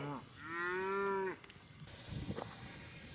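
A single long, loud cow moo lasting about a second, followed by quieter rustling and outdoor noise, on the Continental Divide Trail.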